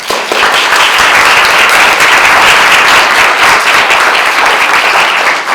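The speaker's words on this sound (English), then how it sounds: "Let's give them a big round of applause." Loud, close applause from a crowd at a school board of education candidate forum, dense continuous clapping for the candidates that holds steady before tapering off at the end.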